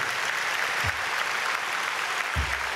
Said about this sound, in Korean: 우리 교회는 너무 박수를 잘 치셔서 무슨 말을 못 하겠어요.